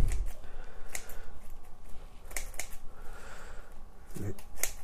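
Sharp scissors snip the edges of Japanese black pine roots during bonsai repotting, giving a few distinct crisp clicks spread over several seconds, with a faint rustle between cuts.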